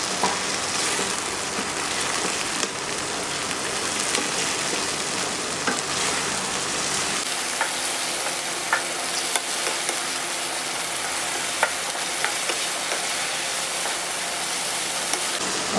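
Chicken handi with kasuri methi stirred in a pan, a loud continuous sizzle broken by repeated scraping and clinking strokes of a spoon, close up and without talk.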